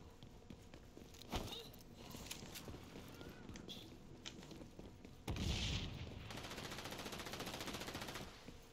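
SMG fire in the video game XDefiant comes in short bursts with scattered single shots and a heavier boom midway, followed by a sustained rattling stream, all fairly faint with no talking.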